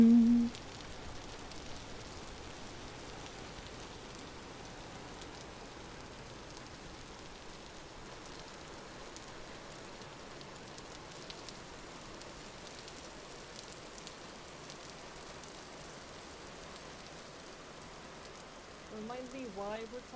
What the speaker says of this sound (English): Remind me why we're trudging through the rain again?